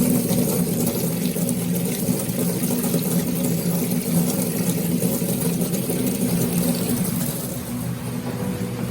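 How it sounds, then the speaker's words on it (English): Small pump moving water in a laundry room, a steady loud whirring hum with rushing water over it, continuous and close, with no talk. "that little pump though, that thing really moves some water"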